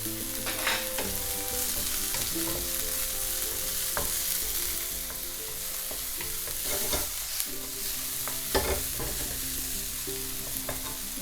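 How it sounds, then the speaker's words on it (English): Tomatoes cooking in a pan with garlic for spaghetti alle vongole: a constant close sizzle broken by repeated scraping and stirring clatters, with no talking. "After that, you can add your tomatoes."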